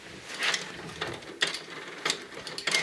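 Desktop printer running a second pass on a journaling page fed face down, giving a series of short mechanical whirring and ratcheting bursts at irregular intervals, close and moderately loud with no talk.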